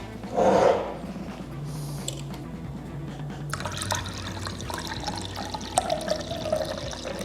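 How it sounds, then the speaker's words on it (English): Kefir soda pours steadily from a jar, splashing and trickling, with a brief bark-like noise at the start. "Let's just pour it out."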